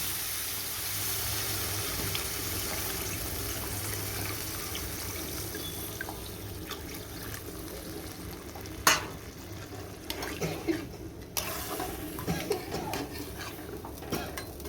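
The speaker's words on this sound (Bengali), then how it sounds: "সুন্দরভাবে এইভাবে কষিয়ে নেওয়ার পর এর মধ্যে হালকা করে জল দিয়ে দিতে হবে।" Water poured into a pan of fried masala for an egg curry, then stirred: a steady wash of sizzling and rushing hiss with scattered spoon scrapes and clinks on the pan growing busier toward the end, close and unvoiced.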